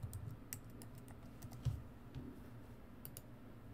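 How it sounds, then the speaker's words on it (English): A password is typed on a computer keyboard, heard as a quiet, irregular run of soft key clicks with a few sharper taps, close by and alone. "And then go ahead and type in your password."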